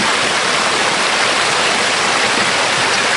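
A waterfall at Blauthaler pours in a loud, steady roar of rushing water that fills the whole stretch without pause, heard close up.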